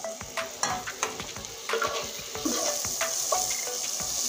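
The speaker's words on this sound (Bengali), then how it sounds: "দেখুন এখনো পেঁয়াজটা ভাজা হয়নি, আরো ভাজতে হবে পেঁয়াজটা।" Onions frying in a pan for an egg and Maggi breakfast dish give off a steady close sizzle, broken by repeated scraping stir strokes of a utensil against the pan, with no talk.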